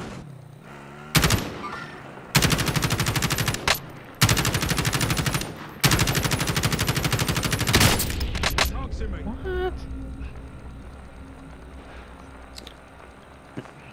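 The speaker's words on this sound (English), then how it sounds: "I'm going to shoot at that thing." Video game gunfire crashes out in four long automatic bursts, each lasting over a second, loud and close with brief gaps between them, then fades into quieter game ambience.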